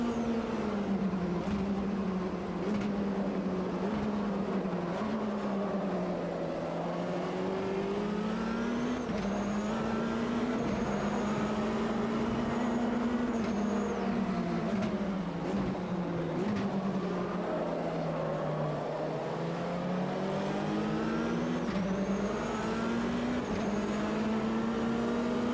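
Race car engines at Daytona in the racing game Automobilista 2, one loud engine droning continuously and rising and falling in pitch through gear changes, with no talking over it.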